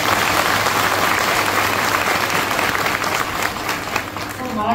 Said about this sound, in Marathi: निखिल चंदन सरांसाठी जोरदार टाळ्या झाल्या पाहिजे